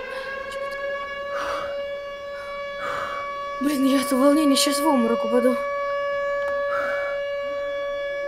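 A siren wails in a long steady tone through the whole stretch, with a voice speaking excitedly over the middle section.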